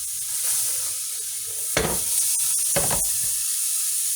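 Onions sizzle and fry steadily in a hot pan, a constant bright hiss running throughout, broken by two louder bursts of stirring and spattering near the middle; no talking.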